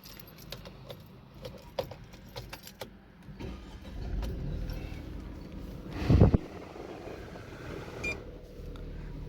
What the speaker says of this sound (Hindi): गाड़ी को हम स्टार्ट कर लेते हैं।